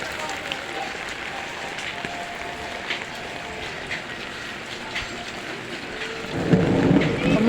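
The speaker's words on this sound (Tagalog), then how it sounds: "Kumukulog-kulog." Low thunder rumbles during steady rain at an outdoor market, the patter of rain constant and a deeper rumble swelling near the end, fairly faint overall.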